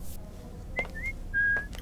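A person whistles a few short, soft notes in a loose, wandering way, thin and fairly quiet over a low background hiss.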